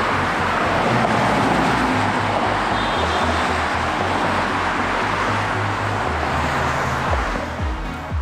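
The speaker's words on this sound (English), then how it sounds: "That's a lot of cars." Heavy Chicago street traffic streams past in a continuous loud roar, with engines droning low, one vehicle's engine pulsing rhythmically nearby, and a wash of tire and wind noise, with no one speaking.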